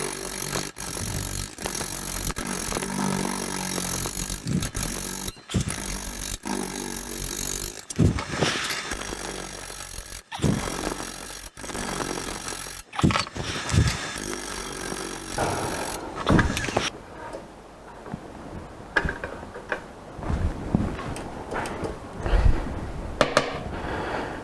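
A wood lathe spins a bowl back while a broad cutter bites into the wood, making a harsh, loud scraping roar with abrupt breaks as the tool lifts away, then softer, patchier cuts toward the end.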